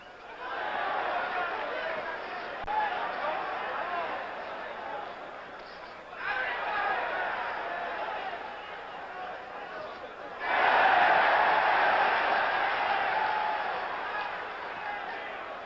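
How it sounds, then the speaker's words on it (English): Boxing arena crowd at the Monzon versus Bouttier middleweight title fight, a broad roar of cheering that swells in waves, surging louder near the end, with a commentator talking over it. "We're hearing the crowd's excitement"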